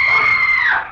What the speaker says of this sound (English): It was at that precise moment that I heard the scream.